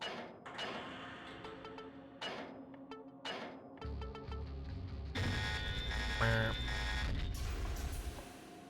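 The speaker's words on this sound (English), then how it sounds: "I feel like you only ever hear that alarm sound in video games." An alarm sounds in the PS2 action game Death By Degrees, a repeating electronic buzzing blare layered over busy game music and effects. It grows denser and louder toward the end, with no talking.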